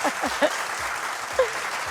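An audience claps steadily in a studio during a Kurdish call-in show, with a dense, even patter that holds throughout and brief louder swells, while a faint voice murmurs underneath.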